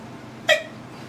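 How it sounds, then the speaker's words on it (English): A single sharp hiccup comes from a man, a short, close, voiced gulp in an otherwise quiet moment. "Sorry, I had the hiccups."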